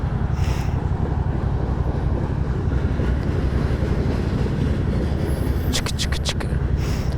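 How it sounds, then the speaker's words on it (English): A long freight train rolls past at close range, a steady, dense rumble that holds the whole time, with wind buffeting the microphone and a few sharp metallic squeals or horn-like bursts near the end. "That train's gonna block me."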